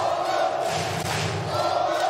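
Spectators at a men's semi-final of a beach volleyball open cheer loudly for the Netherlands, a steady, dense crowd roar with a brief dip at the midpoint before it swells again.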